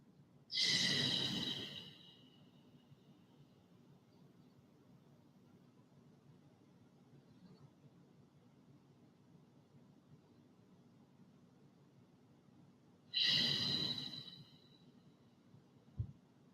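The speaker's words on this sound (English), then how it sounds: "3 more deep breaths." Two slow, deep yoga breaths, each an airy rush of about a second and a half, with a long quiet pause between them in a still room.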